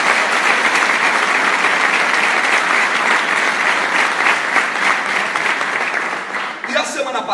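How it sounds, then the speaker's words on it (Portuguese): Congregation applauding during a church sermon, loud sustained clapping throughout that thins slightly near the end as a voice returns. "Pode aplaudir forte ao Senhor"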